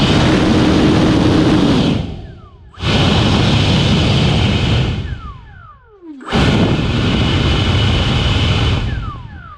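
FMS Platinum 2100 electric ducted fan RC jet run up to full throttle, loud roaring whine in bursts with short dips between, heavy wind noise over it.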